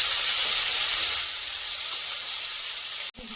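Chopped onion and green chili hit hot oil in a fish-and-taro curry, giving a loud, steady broadband hiss that eases slightly after a second, then cuts off abruptly near the end.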